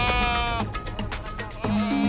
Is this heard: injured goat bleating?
yes